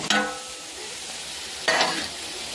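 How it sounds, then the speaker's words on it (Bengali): Fried potatoes tipped into meat simmering with hot water and chilli, stirred in a pan: two short bursts of scraping and sizzle, one at the start and one midway, over a low cooking hiss. "এখন দিয়ে দিচ্ছি ভেজে রাখা আলুটা।"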